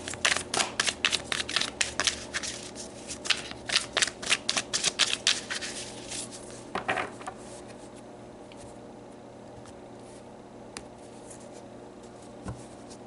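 Oracle cards are shuffled by hand for a reading in quick, crisp riffling bursts over several seconds, then the shuffling stops and near silence follows.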